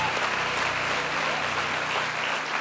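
A church congregation applauds in a continuous, dense wash of clapping, loud and sustained without break.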